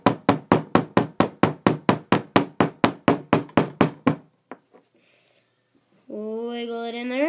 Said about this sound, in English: all I have to do is get a small hammer.